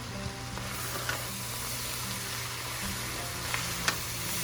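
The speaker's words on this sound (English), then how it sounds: "I'm going to add the rice, cooked rice. Beef is done, so I'm gonna just mix in it." Cooked rice and ground beef are stir-fried together in a pan over medium-low heat, giving a continuous even sizzle with light scraping ticks from stirring now and then, no talking.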